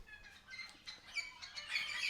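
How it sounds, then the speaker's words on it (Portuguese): Faint high chirps of small birds come from a distance outdoors during a morning run, thin and scattered over quiet background hiss. "os passarinhos tão que tão mais animados que eu"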